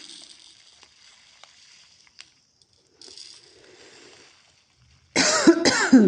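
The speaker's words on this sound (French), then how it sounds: "j'ai envie de tousser en même temps que je fais ça" Two sharp, loud coughs from a person close by, coming after a stretch of quiet rustling and small clicks while a custom diamond painting canvas is being prepared.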